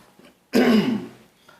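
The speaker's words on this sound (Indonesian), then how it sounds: "Masih batuk terus." A single sharp throat clearing with a rough cough-like burst, close and loud, standing alone in an otherwise quiet room.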